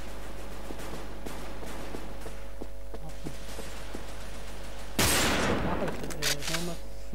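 Gunfire in the video game Wolfteam: after a long stretch of low hum and faint ticking, one loud sharp shot near the end, followed by a brief metallic rattle and fading echoes.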